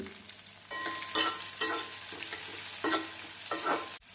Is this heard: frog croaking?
no